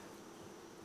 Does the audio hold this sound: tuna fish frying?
no